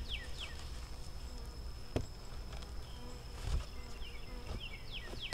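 Honeybees buzz close by at a hive in quick passing drones, several overlapping whines rising and falling over a steady background hum, with a few soft knocks.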